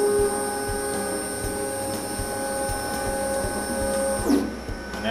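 A laser engraving machine resets with a steady electronic hum and whine, a faint mechanical whirr and a short sweeping movement near the end.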